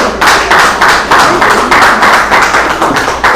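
An audience at a poetry reading claps in a steady rhythm, about eight loud, evenly spaced claps close by, with no talking.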